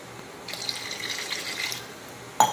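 Water poured from a glass into a cooking pot in a home kitchen makes a short, steady, moderately quiet splashing stream, followed by a brief sharp clink at the end, with no voices.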